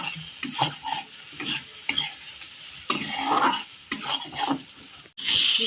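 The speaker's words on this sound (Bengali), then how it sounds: "এবার এটা দইয়ের সাথে ভালো করে আলুটা কষিয়ে নেব মশলা" Potatoes with spices and yogurt sautéing in a pan for an egg curry, with repeated spatula scrapes and stirring strokes over a steady close sizzle, ending in a louder burst of frying.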